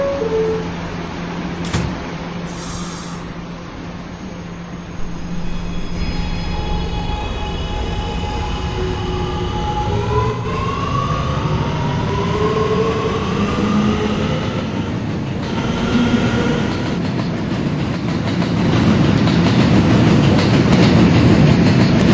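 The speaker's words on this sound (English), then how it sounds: "This is a potato brick bound R train." A Roblox video-game R211T subway train on the R local rumbles along with rising and falling motor whine and a steady rail clatter, loud and close, with a brief door chime near the start.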